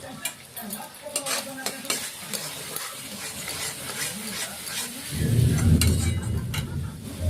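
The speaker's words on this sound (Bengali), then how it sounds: "এখানে আমরা মশলাটা দিয়ে ভালো করে কষিয়ে নেব।" Spice paste with sliced green chillies stir-fries in a pan for a Bengali rohu fish curry: utensil scrapes and clinks repeat over a steady sizzle that swells louder and fuller toward the end, with no talking.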